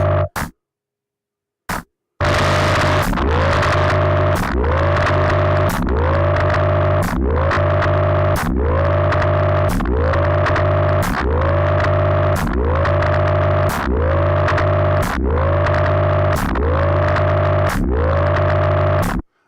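Telephone line simulator effect on an iOS app with feedback: a loud, distorted, band-limited tone repeats in a steady rhythm about every 1.2 seconds, each burst sliding up in pitch with sharp clicks, after a brief quiet start.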